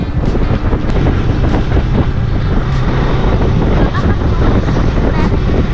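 Strong wind in San Pascual buffeting the microphone in a constant low roar, with gusty rumbles and brief ticking sounds throughout.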